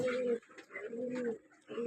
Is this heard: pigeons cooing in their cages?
yes